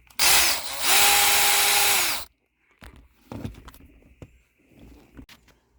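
A power drill backs screws out of a 2015 Toyota Highlander driver's seat: one loud, close whirring burst of about two seconds that cuts off abruptly, followed by quieter clicks and handling clatter.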